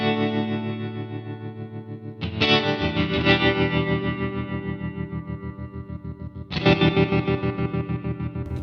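Electric guitar chords pulsing through a tremolo effect on an IK Multimedia Tonex One, the volume throbbing in a fast even wobble, with fresh strums restarting the ringing chord twice; close and alone.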